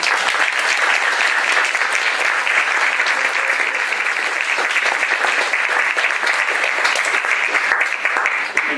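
An audience at a panel discussion on refugee deterrence and asylum policy applauds steadily, with dense, sustained clapping that fills the room without a pause for nearly nine seconds.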